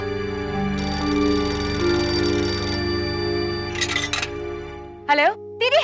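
A phone ringtone plays a bright electronic melody for a few seconds, followed by short bursts of rising tones, with a voice briefly speaking near the end.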